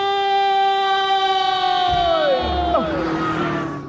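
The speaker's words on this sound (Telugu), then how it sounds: "ఆరినెట్టండి బాబు, సైరన్నే కొట్టాడు" A siren wails in a Telugu comedy film scene, a loud sustained tone that holds steady and then bends downward as rougher crowd-like noise and thumps build beneath it toward the end.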